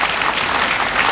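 A brief, loud burst of dense audience clapping, close and continuous, with no voices over it.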